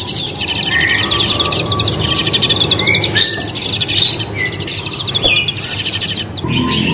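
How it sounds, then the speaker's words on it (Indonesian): Young orange-headed thrush chicks call in a steady stream of high chirps and tweets, close and loud, with no talking over them. "ini anakan dari jalak duren, ada jantan ada betinanya dari burung ini"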